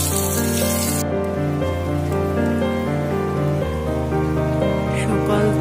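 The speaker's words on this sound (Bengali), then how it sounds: "সকাল থেকেই আজকে কি বৃষ্টি হচ্ছে দেখো" Steady rain falls outside on a wet morning, an even, continuous patter that holds throughout, with a low tonal hum running beneath it.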